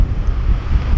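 Strong wind buffeting the microphone at a viewpoint on the Malico road in Nueva Vizcaya, a loud low rumbling gust that churns continuously for a brief moment with no voices.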